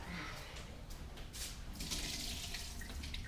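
Water pours and splashes steadily from a pot into a sink, a close gushing stream with no pauses and no talking.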